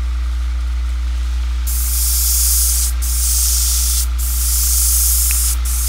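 An airbrush sprays paint in bursts, building up dark layers on a model: three long, steady hissing passes separated by brief pauses, close and even in loudness, with no voices.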